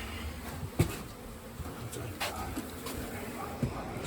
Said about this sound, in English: So we'll show you the box of bees now.